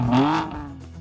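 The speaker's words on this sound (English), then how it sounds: "A unique exhaust system helps the M3 CS sound better than the normal M3 Competition Pack, which, in case you're wondering, sounds like this." A BMW M3 Competition Pack exhaust gives a short, sharp rev that rises in pitch and quickly fades, a single loud burst lasting about a second.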